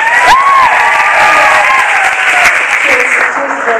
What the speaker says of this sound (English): who also deserves a round of applause.